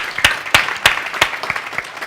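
Audience at a leadership conference applauding the photographer, a short burst of sharp, fairly loud claps at an uneven rhythm with no voices.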